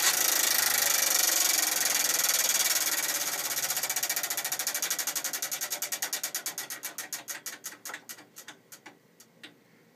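A prize wheel spins at a cash giveaway. A fast whirring blur of clicks gradually slows into distinct, evenly spaced ticks that spread farther apart until the wheel stops, with no talking.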